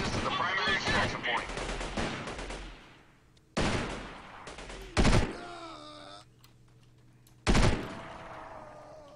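Loud bursts of gunfire ring out in the Delta Force 2 video game, with a long volley followed by sharp separate shots, each leaving a ringing tail, and a voice heard in between.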